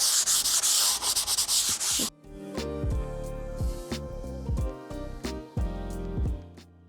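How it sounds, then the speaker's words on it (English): Hand sanding along the grain of a polyurethane-finished wooden Plycraft Eames-style lounge chair, a close, steady scratchy rasp for about two seconds, then stopping as background music plays. "I'm going to hand sand in the direction of the grain just to kind of reduce any roughness from the polyurethane."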